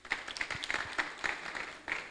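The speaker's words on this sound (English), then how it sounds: "Clap for him." A small audience at an ISOC Ghana Chapter session claps for a speaker, with a faint, sparse scatter of hand claps that comes in irregular bursts.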